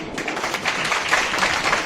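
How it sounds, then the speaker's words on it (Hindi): Steady crowd applause, a dense wash of many hands clapping at once, continuous for the whole short stretch. "तालियां एक बार आप अपने लिए।"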